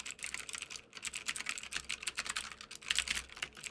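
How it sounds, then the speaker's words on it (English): Fingers type rapidly on a YEYIAN SPARK mechanical gaming keyboard, producing a dense, continuous stream of clicky keystrokes close by. "when we're typing on it, we get a feel for how clicky the keys are"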